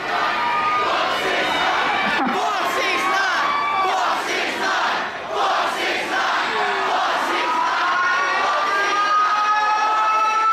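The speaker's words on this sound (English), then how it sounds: "he was seen starting an F6ix9ine chant with the crowd" A large festival crowd chants and yells in unison, a dense wall of voices rising and falling continuously at close range.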